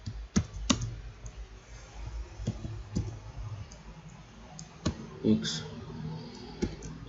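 A computer keyboard is typed on in scattered bursts of sharp key clicks, with longer pauses between strokes and a few louder taps. A voice speaks at times under the keystrokes.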